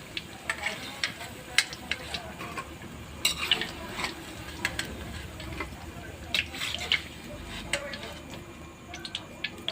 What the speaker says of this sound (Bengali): বাকি বড়াগুলো এভাবে ভেজে নেব।